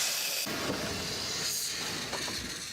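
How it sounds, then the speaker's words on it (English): A Queensland A10 class steam locomotive built in 1865 in Glasgow hisses steadily with escaping steam, with faint mechanical clanks and knocks underneath, heard fairly close and without talk. "She's the A10 class locomotive, number 6. And she's one of the oldest operating steam locomotives in the world."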